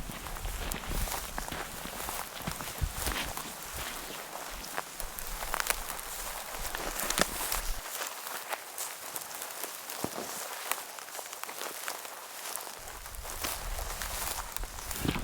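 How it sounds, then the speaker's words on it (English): Footsteps of someone on a long walk around a lake outdoors, a steady, soft plodding crunch with light rustle and breezy background, fairly close and unaccompanied by talk. "I'm just on a nice long walk though, and plodding around a lake."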